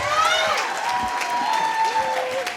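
Audience applause for a performer, with scattered cheering, at a live broadcast event; steady clapping fills the whole moment at close range, with whistle-like tones running over it.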